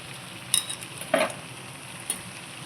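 A spoon stirs salt and turmeric into a buttermilk curry, mor kuzhambu: three quick metallic clinks and scrapes sound against a pot over a quiet background hiss.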